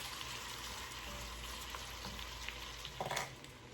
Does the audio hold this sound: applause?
no